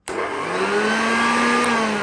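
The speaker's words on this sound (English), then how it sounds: "Let's see how well the Hoover Jr. Dirtsearcher can cope with this then." A 1970 Hoover Junior Dirtsearcher upright vacuum cleaner switches on abruptly and runs steadily for about two seconds, a loud continuous motor whine with a slowly rising pitch and no talking.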